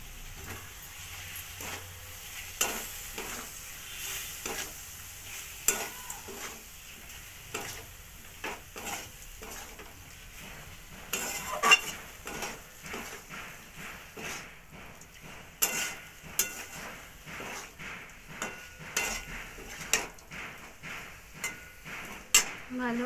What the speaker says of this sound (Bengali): দিয়ে এবার এটাকে ভালো করে মিশিয়ে নেব।